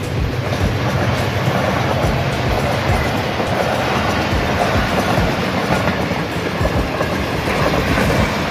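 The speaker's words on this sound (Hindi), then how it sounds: "मंदरा रेलवे स्टेशन पे इस टाइम क्रॉस हो रही है 108 इस्लामाबाद एक्सप्रेस, रावलपिंडी से चली है और ये लाहौर के लिए जाएगी" The 108 Islamabad Express, running from Rawalpindi to Lahore, passes through Mandra railway station with a steady, loud rolling rumble and rhythmic clickety-clack of wheels over rail joints throughout, close by and with no voices.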